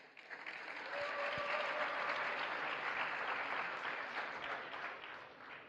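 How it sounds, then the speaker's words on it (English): A crowd at a hackathon closing ceremony in Brussels breaks into sustained applause, a dense wash of clapping that swells and holds steadily for several seconds, heard from a distance. "Please give them a big round of applause."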